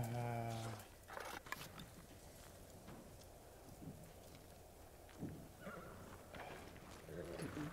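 A samurai horse in a video game whinnies at the start, followed by faint hoofbeats and shuffling over a steady outdoor ambience, with voices nearby.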